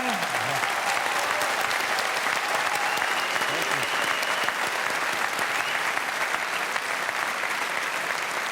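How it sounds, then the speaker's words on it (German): Big, dense applause from a large audience in a hall at a folk music television show, steady and loud throughout with a crowd roar underneath. "Riesen Applaus hier in der Halle"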